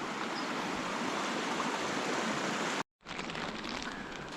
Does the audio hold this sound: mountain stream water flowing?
yes